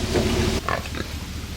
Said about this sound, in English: This is the mama pig.